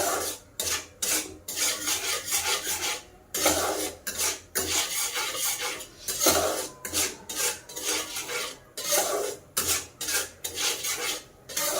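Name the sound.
semolina being stirred and roasted in a hot wok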